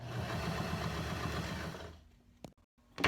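Sewing machine stitching the side seam of a pink slip: a fast, steady mechanical chatter running for about two seconds close by, then stopping, followed by a couple of faint clicks and handling noises.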